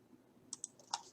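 A few sharp keyboard key clicks on a computer keyboard, including the Delete key being pressed, quiet and close, with a brief pair of taps followed by a slightly stronger click, without talk.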